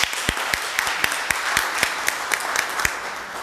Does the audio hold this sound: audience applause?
yes